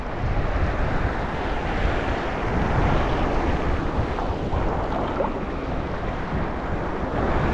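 Wind buffets the microphone on a small fishing boat at sea during an ultralight fishing trip, with rushing waves and water noise forming a constant loud wash and no one speaking.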